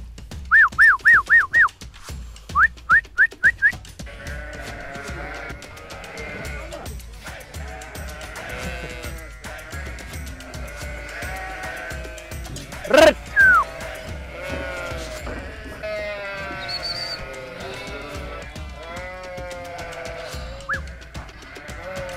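Sheep bleat as they are let out, several loud bleats at the start and a burst in the middle, over a busy outdoor background with whistling and bird-like calls scattered throughout.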